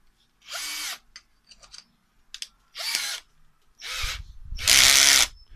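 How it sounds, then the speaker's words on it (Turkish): A cordless electric drill spins a cleaning rod with a mushroom-type head inside a dried gourd, running in five short bursts of whirring, scraping noise separated by pauses, the last burst loudest and longest. "Bu çubuğumuzu şarjlı ve elektrikli bir matkaba takacağız."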